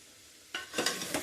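Cluster bean vegetable with masala being stirred and sautéed in a pot, a few quick scraping strokes with a light sizzle, close but soft after a quiet start.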